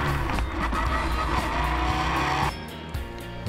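Race cars circle a circuit during a Lamera Cup endurance race at Val de Vienne, loud engines droning and shifting pitch with tyre noise, one car pulling away near the end.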